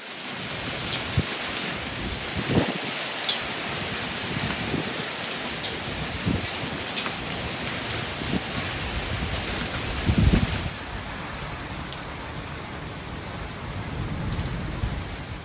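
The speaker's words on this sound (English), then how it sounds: "I promised I'd show you our first monsoon of the season." A monsoon rainstorm pours down on an outdoor spot with a small Afghan pine, a dense, unbroken hiss of heavy rain with scattered louder drips and gusts, one stronger surge partway through.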